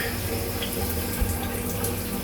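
Water streams steadily from a new shower head, a constant close hiss of spray with no pauses.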